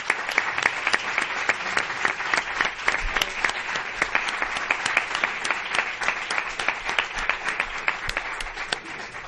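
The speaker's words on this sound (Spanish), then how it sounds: "Me gustaría pedirle un aplauso para Pepe" A modest audience at the Silla de Oro 2016 event claps for guitarist Pepe. The applause is soft and sustained, with individual sharp claps standing out over the steady patter.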